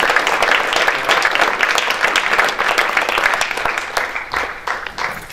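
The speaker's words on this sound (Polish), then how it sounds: "A brawa nie milkną, drodzy Państwo, zanim Marcin dotrze do nas" Theatre audience at a premiere in Radom giving sustained, dense applause that fills the hall, steady and loud throughout with no speech over it.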